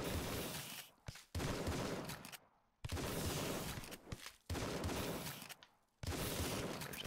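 A shotgun fires in the game Tesla vs Lovecraft: five rough, noisy blasts of gunfire, each lasting about a second, with short gaps between them. The shots sound fairly quiet and distant.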